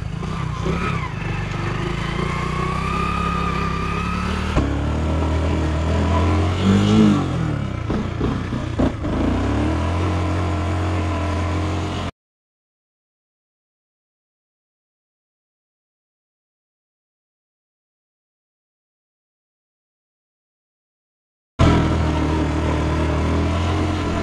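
Hero Splendor motorcycle engine revving loudly and steadily during stunts on sandy ground, with a long silent gap midway before the engine noise resumes.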